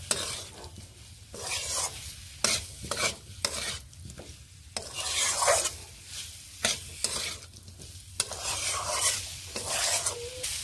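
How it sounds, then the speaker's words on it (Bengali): Potatoes sautéed with spices in a pan, with a continuous sizzle broken by repeated spatula scrapes and stirring strokes, close up and steady. "এবার মশলার সঙ্গে ভালোভাবে মশলাগুলোর সঙ্গে আলুগুলোকেও একটুখানি কষিয়ে নিচ্ছি।"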